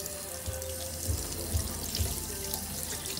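Tap water runs steadily into a sink while a dog is rinsed at bath time, a close, even splashing stream with faint drips and no talking.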